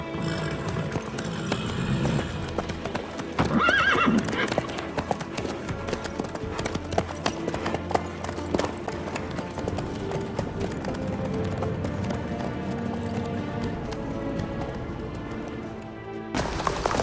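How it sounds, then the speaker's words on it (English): Horse hooves clip-clop in The Witcher 3, a steady plodding beat running through a dense bed of game music and ambience, with characters talking over parts of it. "How's your horse? Swift?"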